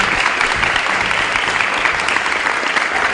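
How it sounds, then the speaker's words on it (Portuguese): School students at a municipal school applaud a guest, a loud, dense and continuous round of clapping from a large crowd filling the whole stretch. "uma salva de palmas para o grande Zico"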